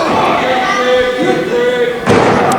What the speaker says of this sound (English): Creed slamming Cobra's head into the ring apron.